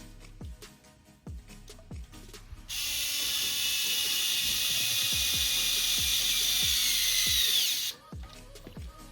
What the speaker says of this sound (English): go with the electric driver, 2 millimeter